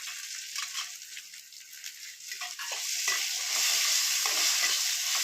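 Peanuts and coriander being stirred into a semolina mixture in a pan, a steady scraping and sizzling that thickens and grows louder toward the end, with no talk.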